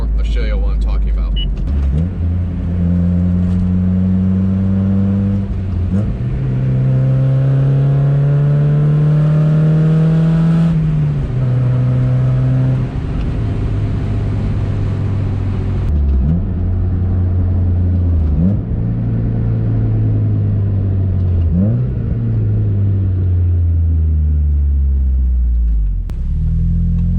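A car engine breathing through a Good-Win Racing RoadsterSport 4 exhaust rises and falls through several deep, steady revs, loud and close, with someone talking over it.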